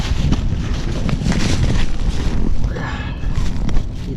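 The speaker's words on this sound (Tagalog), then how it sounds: "Pasaway na hangin to." Strong gusts buffet the microphone aboard a boat on open water, a loud, rough rumbling roar that swells and dips unevenly throughout.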